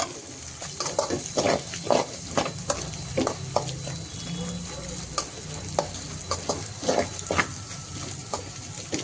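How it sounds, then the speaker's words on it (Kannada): Eggs stirred and fried in a pan for homemade egg noodles, a steady sizzle broken by repeated scraping strokes of a spatula at close range. "ಒಂದು ಎರಡು ನಿಮಿಷ ಫ್ರೈ ಮಾಡಿಕೊಂಡ್ರೆ ಚೆನ್ನಾಗದು ಎಗ್ ಗುರ್ಜಿ ಟೈಪ್ ಬರುತ್ತೆ"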